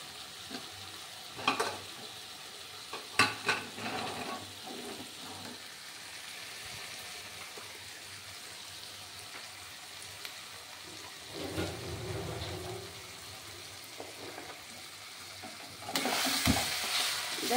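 Ginger and green chili paste frying in oil for a goat meat curry, a soft steady sizzle with occasional stirring scrapes, rising into a louder hiss near the end.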